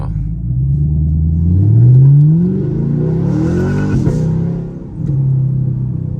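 A Chevrolet Camaro SS V8 pulls hard from inside the car, its deep rumble climbing steadily through a long rev, then dropping into a crackling, popping burble on lift-off before settling and rising again.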